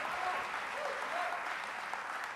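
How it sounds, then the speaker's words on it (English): Audience clapping at the 2013 Silicon Prairie Awards ceremony, a steady, dense wash of applause from a large crowd filling the room, with faint voices mixed in. "so let's give him a round of applause first."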